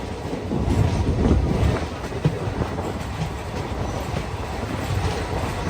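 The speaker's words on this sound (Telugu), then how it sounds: "ఇదిగోండి మన ట్రైన్ గోదావరి స్టేషన్ కి అయితే వచ్చింది." A passenger train crossing the Godavari rail bridge, a continuous heavy rumble with rolling wheel clatter, loudest early then steady, with no talk.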